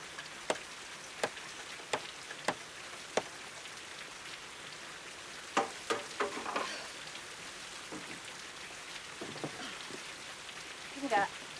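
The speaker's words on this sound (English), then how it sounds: "It's raining on top of the roof." Rain patters on a rooftop outdoors, a soft steady hiss with scattered sharper drops ticking close by, fairly quiet throughout.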